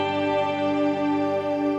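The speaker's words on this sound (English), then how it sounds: "we want to do a washy reverb with maybe some shimmer, and it would sound like this" Electric guitar run through an HX Stomp effects loop with washy reverb and shimmer, sustained ringing chord with dense stacked harmonics, steady and loud, playing alone without voices.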